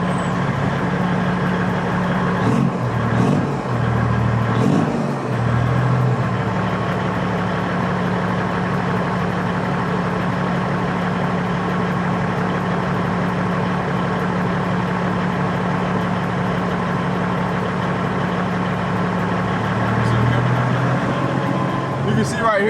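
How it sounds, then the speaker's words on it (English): An old Peterbilt 379 truck that had not been driven in months idles with a steady low diesel drone, rising slightly as it is idled up, while someone talks over it. "So I'm gonna try to idle it up, and we'll see if it idles up and then cuts off."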